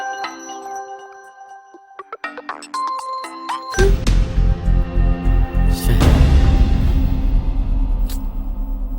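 A mobile phone rings with an incoming call, playing a bright, melodic electronic ringtone that starts softly and then swells into a loud, repeating, beat-driven pattern, with no talking.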